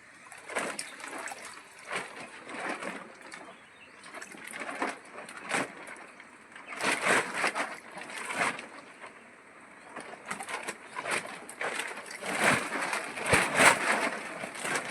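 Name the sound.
washing wild mushrooms in clean water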